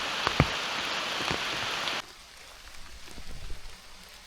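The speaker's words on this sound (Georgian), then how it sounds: "ძლიერი წვიმაც დაიწყო." Heavy rain falls in a forest, a dense steady hiss for about two seconds before dropping abruptly to a softer, quieter patter with a few scattered drops.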